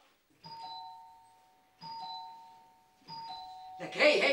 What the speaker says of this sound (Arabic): حاجة تدقي على الجرس